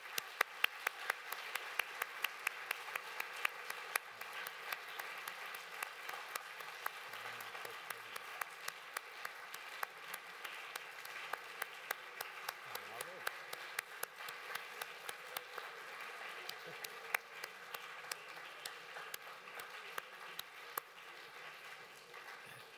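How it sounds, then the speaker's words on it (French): Lecture audience applauding a speaker after a talk on ocean and climate, a steady, dense wash of many hands clapping that carries on for the whole stretch at moderate loudness, with no voices over it. "je vous propose d'applaudir notre conférencier"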